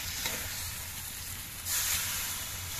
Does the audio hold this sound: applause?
no